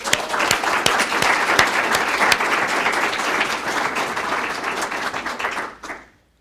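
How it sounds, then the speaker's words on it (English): An audience at a graduation ceremony for new deputy probation officers applauds, loud, dense clapping with a few sharp individual claps standing out, carrying steadily before cutting off abruptly near the end. "Let's give them a round of applause"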